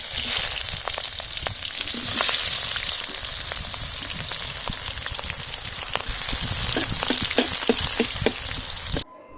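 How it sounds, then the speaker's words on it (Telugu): Whole spices such as cardamom and cinnamon frying in hot oil in an iron wok, giving a steady, close, crackling sizzle with scattered pops throughout, alone without talk. "ఇవన్నీ నూనెలో ఫస్ట్ వేసుకుందాం అవి ఫ్రై అవ్వడుతోనే ఉల్లిగడ్డలు వేసుకుంటే అయిపోతుంది"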